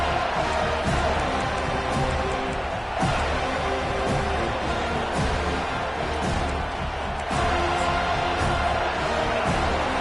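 A stadium crowd cheers in a football video game, a loud continuous roar with occasional thumps, heard steadily without any clear speech.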